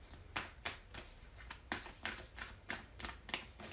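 Oracle cards being shuffled at a tarot-style reading, a quick run of crisp riffling bursts with short pauses between them, close and fairly soft, with no voice over them.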